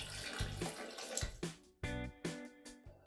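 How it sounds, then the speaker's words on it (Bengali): Water pours from a tap in several separate bursts into a cooking pot of onions and potatoes, each splash loud and close, with short gaps between pours and no talk. "পরিমাণ মতো আর একটু জল দিয়ে নেব।"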